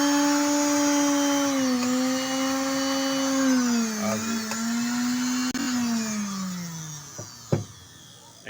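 Sewing machine motor running on test after pedal and motor repair, a steady humming whine whose pitch sags and shifts as the speed changes, ending with a couple of sharp knocks.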